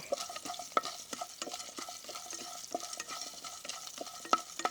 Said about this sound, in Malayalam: ഇനി വെളുത്തുള്ളിയും ഉള്ളിയും ഒന്ന് വഴണ്ട് വരട്ടി ഇതിൻ്റെ കൂടെ കിടന്നിട്ട്